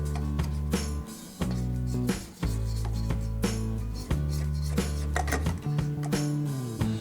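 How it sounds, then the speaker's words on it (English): A spatula scrapes sugar and egg yolk down the sides of a mixing bowl in a series of close, rasping strokes with light knocks against the bowl. No talking. "So I'm just gonna scrape that down so it can get evenly mixed into this"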